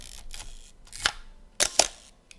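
Several sharp mechanical shutter clicks from an Icarex 35 film camera set to 1/1000 second, in quick succession, crisp and close, with brief quiet gaps between them.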